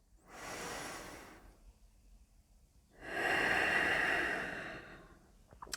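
Two slow, breathy yoga exhalations through the mouth, the first softer and the second longer and louder, heard alone during a guided yoga flow class.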